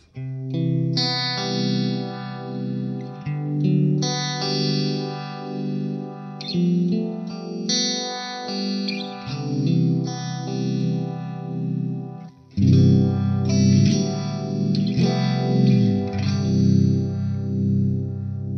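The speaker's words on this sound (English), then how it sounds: "You already heard the chorus. Here's a mini vibe." An electric guitar plays chords and melodic lines through swirling, warbling chorus and uni-vibe effects from a Hotone Ampero II Stage, steady and full, with a louder section near the end.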